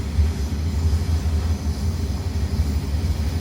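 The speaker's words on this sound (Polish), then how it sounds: "Głośno słychać te tory." A low, steady rumble of a Koleje Śląskie regional train rolling along the rails from Katowice to Katowice Airport in Pyrzowice, continuous and fairly loud, with no voices.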